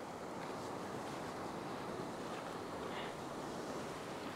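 Ocean surf washes steadily over coastal rocks during rock fishing, a continuous broadband rush of waves with wind noise on the microphone and no talking.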